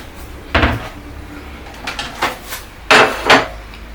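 Several sharp clatters and knocks of plates being taken out in a kitchen nearby, spaced irregularly with quiet gaps between them.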